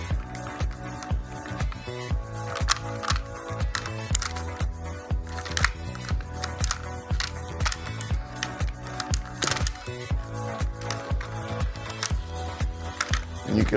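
A 20-round drum magazine for a TRP Hunting 12 gauge semi-auto shotgun ratchets as it is turned counterclockwise during loading, giving a close, steady run of rapid, crisp clicks.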